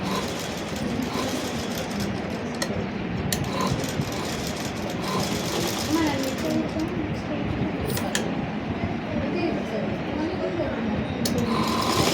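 A tailoring sewing machine stitches a small square neckline, giving a dense, steady mechanical whir that runs unbroken for about twelve seconds at close range.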